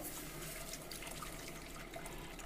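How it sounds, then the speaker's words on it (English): Vegetable stock poured slowly into a flour roux for chicken pot pie, a soft continuous liquid trickle close by, fairly quiet and steady throughout. "you're going to add back in this stock that you cooked the vegetables in"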